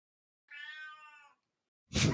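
A cat gives one drawn-out, clear meow close by, followed after a short silence by a sharp burst of broadband noise.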